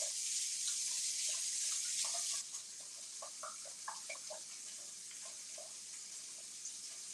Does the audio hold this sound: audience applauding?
no